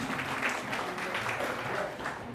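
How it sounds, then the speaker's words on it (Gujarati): Applause welcoming a guest at a library inauguration held by a Vankar community organisation in Chandkheda, a dense, steady crowd clapping that fills the whole short stretch without talk. "જોરદાર તાળીઓના ગડગડાટ સાથે સ્વાગત કરીએ છીએ"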